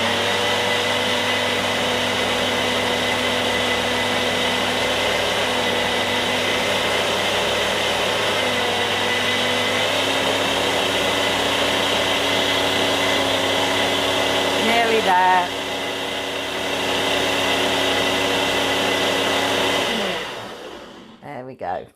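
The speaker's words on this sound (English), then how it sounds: "I pop it on puree. It gets very noisy from here on in." A blender on its puree setting whirs a jelly mousse mixture in a loud, steady drone that shifts pitch partway through, then winds down and stops near the end, with a brief spoken remark over it.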